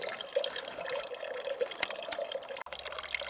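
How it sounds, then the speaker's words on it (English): Water from a spring dribbles and splashes steadily in a continuous trickle, with a brief dropout near the end before the flow resumes. "I like hearing the dribble of the water splashing like that."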